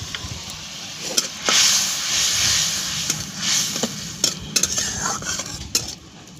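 Spice paste for a small-fish curry fries in a pan while a utensil stirs it, giving a close, continuous sizzle broken by repeated scraping clinks of metal against the pan.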